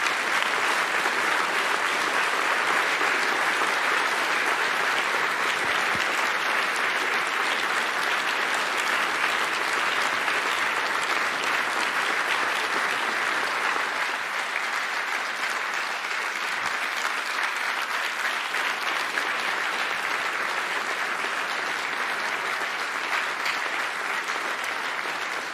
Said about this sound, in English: I hope you can hear the huge round of applause that your words have brought about, echoing through this room